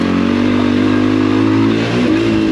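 Motorcycle engine ridden off-road while attempting small jumps, a steady loud droning rev with harmonic tone that dips briefly near the end, close and continuous with no talk.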